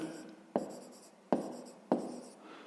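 Pen strokes on paper, three distinct scratchy bursts spaced about a second apart, close and fairly loud, as a fifth-grade maths exercise answer is written out.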